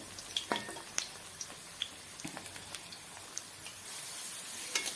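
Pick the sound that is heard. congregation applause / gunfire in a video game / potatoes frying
potatoes frying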